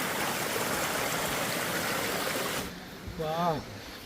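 Mountain stream water trickling down a thin rocky edge on the Agasthyakoodam trek, a steady rushing flow that drops away abruptly, followed by a brief warbling sound near the end.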